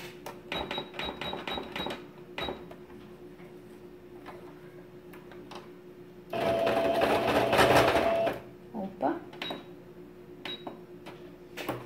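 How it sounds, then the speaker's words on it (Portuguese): A sewing machine stitches the final seam on a double pencil case, with intermittent ticking needle runs and a louder continuous burst of stitching in the middle, close by. "Agora eu vou passar a costura definitiva"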